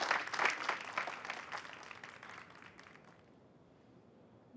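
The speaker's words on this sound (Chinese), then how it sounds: "掌声送给他，掌声送给他！" Studio audience applause on a Chinese dating game show, a dense burst of clapping that starts loud and steadily thins out, fading to near silence by the end.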